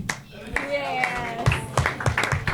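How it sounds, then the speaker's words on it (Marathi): An audience at a Marathi comedy stage show applauds contestants with a scattered burst of clapping that builds partway through, mixed under a host's loud, continuous talking. "टाळ्या झाल्या पाहिजे एकदा मुकुलसाठी."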